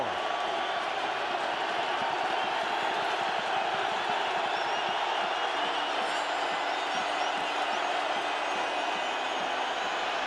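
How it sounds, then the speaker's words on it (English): A roaring stadium crowd at an Eagles vs Vikings NFC Wild Card football game in Minnesota keeps up a steady, dense wash of noise the whole time. "this crowd lets the Eagles hear it"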